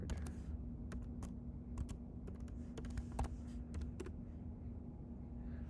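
Fingers tap out a Twitter login and password on a computer keyboard, a quiet irregular run of light clicks over a low steady hum.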